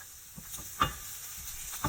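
Garlic frying in a little sunflower oil for stir-fried chow mein, a faint steady sizzle with a few soft stirring clicks.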